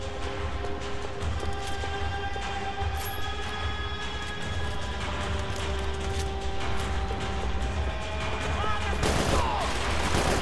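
Gunshots in the video game Max Payne 3 crackle over a steady, busy background din, with dense overlapping reports sounding continuously throughout.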